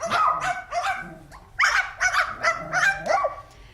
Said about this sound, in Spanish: su grupo de perros, ladrando bien bonito.